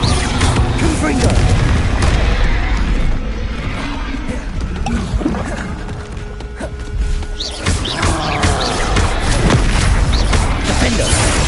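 A Confringo explosion spell goes off in the video game Hogwarts Legacy, with loud, booming blasts and crashing impacts over a dense, rumbling battle din that dips briefly before the bursts resume.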